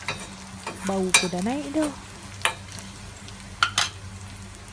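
Onions fry for dhal in a pan with a steady sizzle while a utensil stirs and scrapes in irregular clatters; a person speaks briefly over the cooking.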